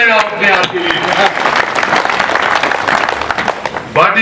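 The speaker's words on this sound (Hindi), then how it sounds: "भाई साहब एक बार ताली बजाएं आप अपने आप के लिए" Audience applause at a Hindi kavi sammelan (poetry recital) in Maharashtra: a dense, steady wave of clapping from a crowd, loud and sustained for several seconds, with a voice speaking briefly at the start and end.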